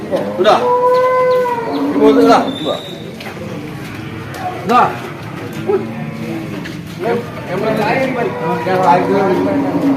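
A water buffalo lows loudly nearby, then calls again later amid a busy outdoor cattle market crowd of people talking and general bustle.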